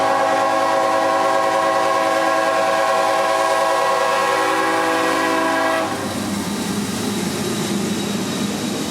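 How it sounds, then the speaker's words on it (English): Freight train M208 on the S-Line heading out eastbound, a loud blaring horn held for several seconds before cutting off, then the rumble and roar of the locomotive passing close by. "Finally, M208 gets the signals to head out eastbound to Moncrief"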